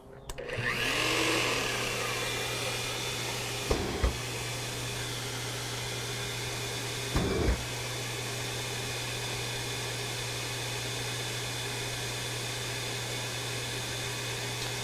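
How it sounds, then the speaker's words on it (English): A DeWalt DWV012 10-gallon dust extractor, used with an SDS drill bit, runs with a steady, loud whooshing roar that holds constant throughout, broken by a couple of brief clunks. "it turned the vacuum on. It kept sucking, going through its cycle"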